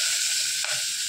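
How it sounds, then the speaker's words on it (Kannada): Onion fries in hot oil for greens sambar, giving a steady close hiss of sizzling oil with one brief louder crackle partway through and no talking. "ಇವಾಗ ಎಣ್ಣೆಯಲ್ಲಿ ಫ್ರೈ ಮಾಡ್ಕೊಳ್ಳೋಣ"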